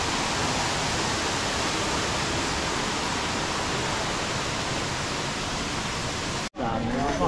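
An artificial waterfall at a temple in Korat roars as a steady, dense rush of falling water, loud and continuous, then cuts off abruptly near the end.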